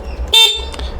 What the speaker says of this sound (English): we're going to honk the horn just to ensure we've got power